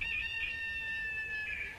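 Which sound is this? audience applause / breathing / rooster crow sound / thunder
rooster crow sound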